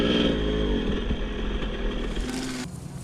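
A 2001 Kawasaki KX 250 two-stroke motocross bike engine running at close range, a steady buzzing drone with a slight rise in pitch near the end.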